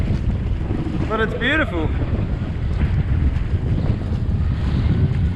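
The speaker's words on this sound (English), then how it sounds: "It's rough, it's windy" Strong wind buffets the microphone on a fishing boat out on rough open sea off Indonesia, a loud continuous roar with water noise beneath, while a person speaks briefly near the start.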